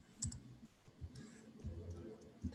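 Someone types on a computer keyboard, giving quiet scattered key clicks in short irregular bursts while low muffled murmuring runs faintly underneath.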